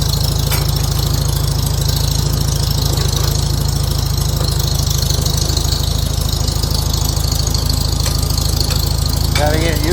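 A Farmall H tractor engine chugs loudly and steadily as it is eased into first gear with a grabby clutch, its low rhythmic firing pulsing throughout while someone talks over it.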